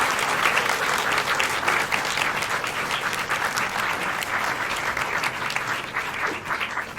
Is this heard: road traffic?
no